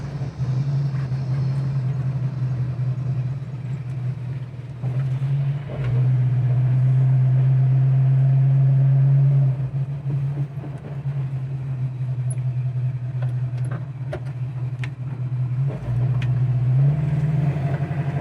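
A 1968 Ford Mustang's engine drones steadily, its pitch and loudness rising and falling as it pulls through successive gears, heard from inside the car with road noise.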